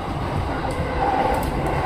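JR Keihin-Tohoku Line rapid train bound for Ofuna, running toward Hamamatsucho, heard from inside: a steady, loud rolling rumble with faint wheel and track noise throughout, and no voices.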